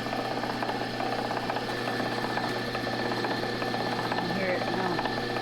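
A power carding machine spins wool fibers onto its larger toothed wheel, a steady mechanical whir and hum with a rhythmic rattle, heard close up beneath a person talking throughout.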